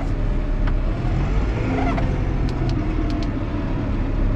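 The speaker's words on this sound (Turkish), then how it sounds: "Bu hafif traktör bu şanzımanla fırlayıp gidiyor." A New Holland T5.140 Auto Command tractor drives and accelerates, producing a continuous loud engine rumble with a steady road-noise wash and a few faint higher clicks and squeaks over it.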